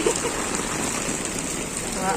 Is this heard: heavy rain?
yes